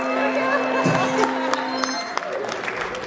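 An audience applauds at a stage show, a steady wash of clapping and light cheering with a voice speaking over it at times.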